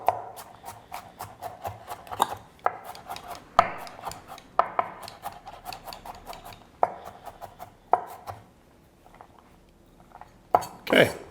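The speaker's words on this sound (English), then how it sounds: "so let's just chop that up a little" A knife chops garlic cloves into smaller pieces on a board for a Spanish paella, giving a run of irregular, close, sharp chopping knocks with brief pauses and a quieter stretch before a final burst.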